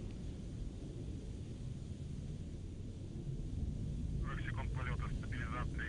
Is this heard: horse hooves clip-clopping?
no